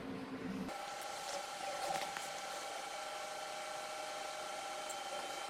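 A Creality CR10 Smart Pro 3D printer powers on after its button is pressed, a steady electronic whine and faint fan hum starting abruptly and holding on, with a few small clicks near the start.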